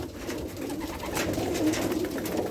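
Soft, low pigeon coos murmur steadily through a dense, noisy background, several birds close together with no talk.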